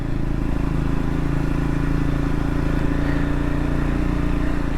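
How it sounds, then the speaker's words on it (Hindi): A Triumph Scrambler 400X motorcycle engine pulls up a steep hill road in second gear, giving a steady, loud, even drone that stays constant throughout with no knocking. "और सेकंड गियर में चल रही है, काफ़ी स्टीप चढ़ाई है। और इंजन की साउंड आपको आ रही होगी।"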